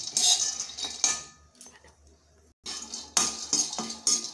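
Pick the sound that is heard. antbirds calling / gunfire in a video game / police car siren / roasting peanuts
roasting peanuts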